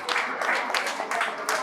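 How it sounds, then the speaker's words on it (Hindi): An audience at a spiritual gathering claps with raised hands, a dense patter of many hands in uneven bursts over a short stretch, with voices mixed in. "हाथ ऊपर करो, तालियां बजाओ सभी लोग"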